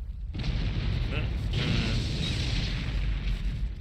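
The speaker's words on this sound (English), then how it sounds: "More explosions are still happening around me, I guess." Deep booming explosions from the action video game Asura's Wrath roll out in a heavy low rumble, with someone talking over the continuing blasts.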